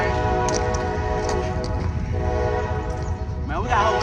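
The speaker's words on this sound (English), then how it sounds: "Bye-bye, train." A train rumbles loudly past along railroad tracks, a continuous heavy roar with a sustained tonal horn blast layered over it, and a voice briefly cuts in near the end.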